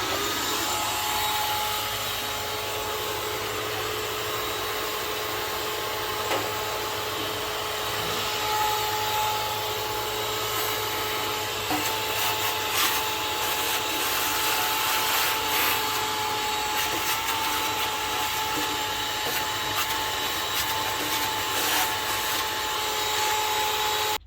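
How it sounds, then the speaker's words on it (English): A mini shop vac runs steadily and loudly, sucking up metal shavings in a garage, with a constant motor whine and occasional rattly clicks of debris, no talking. "Got the little mini shop vac out. We'll get all those metal shavings cleaned up."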